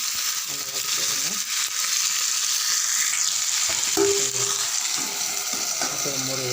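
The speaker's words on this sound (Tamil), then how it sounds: "நல்லா வதக்கிடுங்க." Tomatoes sauté in a pan for poondu thakkali thokku, a loud continuous hissing sizzle close by with occasional scraping and clinking of a spoon stirring, plus brief faint voice-like sounds underneath.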